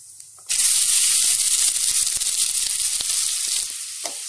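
Chopped onions hit hot oil already crackling with mustard seeds and cumin, bursting into a loud, steady close-up sizzle that holds for several seconds before easing slightly, with no talk over it.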